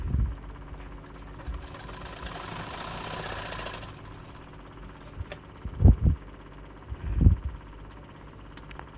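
A sewing machine runs a seam along the folded lining of a prince-cut blouse, whirring steadily for about four seconds and then stopping, followed by a couple of short low thumps close by.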